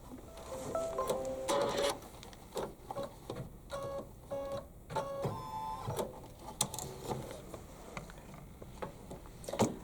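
A Kimberbell embroidery machine stitches placement lines, a close, quick mechanical ticking and whirring with tapping needle strikes and brief motor whines in uneven bursts.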